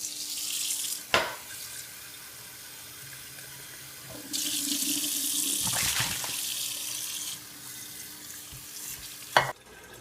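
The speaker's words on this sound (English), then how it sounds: "Then I'm going to fill it up with water." Tap water running into a 2-liter glass flask, a steady hissing rush with a louder burst in the middle and a few clinks and knocks of glass along the way.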